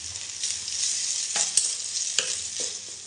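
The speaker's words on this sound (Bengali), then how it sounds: "ভালো করে চাউমিনটা এর মধ্যে মিশিয়ে নিতে হবে।" Vegetable chowmein is stir-fried in a hot pan, giving a steady close sizzle with a few sharp scrapes and clacks of a spatula stirring the noodles.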